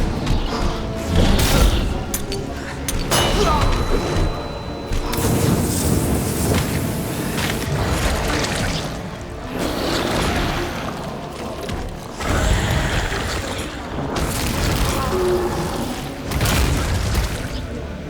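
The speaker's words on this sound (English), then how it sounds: "Let's try to switch to a flashbang so I can pin him down." Flashbang grenades going off in Resident Evil 2 gameplay, a series of loud booms and thuds mixed with clattering game effects, recurring every few seconds.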